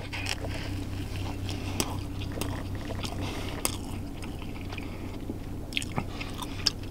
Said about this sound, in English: First bite.